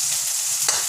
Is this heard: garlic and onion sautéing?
yes